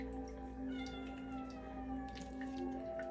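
A pet cat meows faintly in the background at home, a soft, drawn-out cry over a steady low hum, with no talking.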